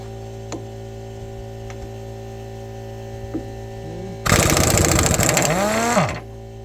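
An impact wrench working on a Terex backhoe breaks into a loud, rapid hammering burst of about two seconds, cutting through a steady low engine hum.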